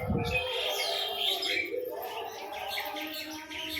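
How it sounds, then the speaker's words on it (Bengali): Pigeons gathering one by one to be fed, their soft coos and chirps overlapping in a steady, close chorus throughout. "এখানে এক এক করে সব পায়রা চলে আসছে"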